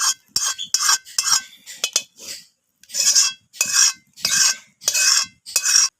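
A utensil stirs vegetarian khichuri in a cooking pot, giving about ten close, rhythmic scraping strokes separated by short pauses, with no voices.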